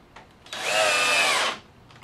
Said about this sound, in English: After the glue is added, go ahead and add screws to the 3 center pieces.